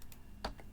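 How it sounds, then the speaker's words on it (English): A single key press on a computer keyboard, one short sharp click near the middle, followed by a fainter softer tap, close and alone against quiet room tone. "if you click once on that and hit the delete key"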